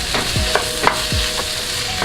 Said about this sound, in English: Let the vegetables saute a little bit for a few minutes, about 2 to 3 minutes.